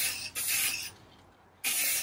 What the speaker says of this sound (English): just give it another final coat of spray